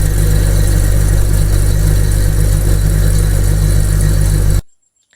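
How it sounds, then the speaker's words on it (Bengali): A ceiling fan coil winding machine motor runs at a steady, loud hum with a low droning tone, holding even throughout before cutting off abruptly near the end. "তারপর মেশিন স্টার্ট করবো।"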